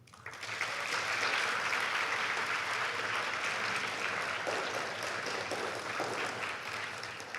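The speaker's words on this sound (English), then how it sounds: "Class of 22, please take a moment to give them a hand of applause." Audience at a graduation ceremony breaks into sustained applause, a full, even roar of clapping from many hands that rises quickly and holds steady without fading.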